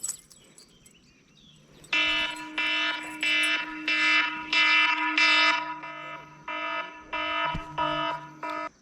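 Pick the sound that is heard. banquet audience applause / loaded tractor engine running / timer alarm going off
timer alarm going off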